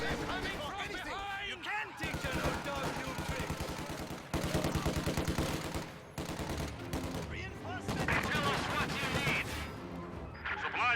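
PTRS rifles and an MG42 fire in a video game battle. Loud, rapid bursts of gunfire run almost without a break, some heavy single cracks among them, with a few short gaps.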